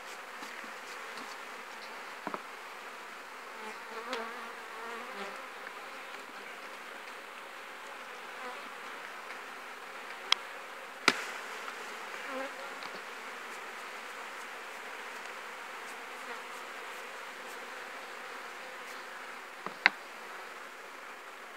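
A steady, dense hum of honey bees buzzing around hives set on pallets near linden trees in a forest, continuous and even, with a few faint clicks and knocks and no talk.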